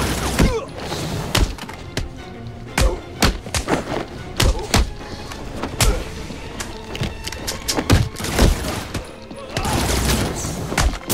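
Armed thugs shooting guns in Batman: Arkham City, sharp shots and heavy thuds scattered irregularly through a chaotic fight, loud and close, with someone speaking in between.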